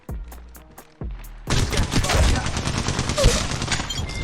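Gunfire in the mobile battle royale game Apex Legends Mobile: a few sparse tones and clicks, then a sudden dense, loud spray of rapid shots that carries on steadily to the end.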